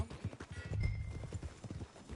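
Horse hooves clip-clopping at a steady walking rhythm in Red Dead Redemption 2, close and moderately loud, with no talk.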